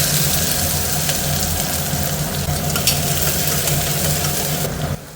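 Onion and garlic fry in a pan with cumin, a steady loud hiss and sizzle close up that cuts off sharply at the end, with no talking over it.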